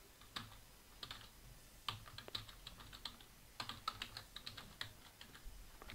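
Bursts of keystrokes on a computer keyboard, sharp close clicks in quick irregular runs with short pauses, fairly quiet and with no talk over them.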